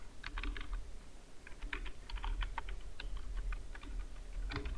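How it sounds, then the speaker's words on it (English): Typing on a computer keyboard in bursts of quick, light key clicks with short pauses between runs, close and fairly quiet over a low steady hum, no talking. "Now select next and type your web link."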